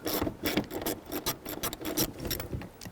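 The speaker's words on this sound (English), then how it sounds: "We're going to use a 12mm socket." A ratchet with a 12mm socket turns a rear seat bolt out of a 2003-2008 Subaru Forester in a quick run of close, light mechanical clicks. No one speaks.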